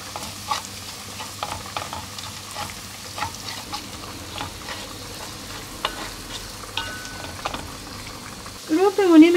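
Spices stirred and frying in a pot for Iranian lentil dal stew, a steady close sizzle with scraping stirs, a few clinks, and a brief louder burst near the end.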